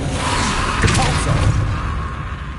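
A Repulso spell in the Hogwarts Legacy video game lands with a dull thump and whoosh over a steady rumbling bed, a brief louder impact burst followed by a fading roar.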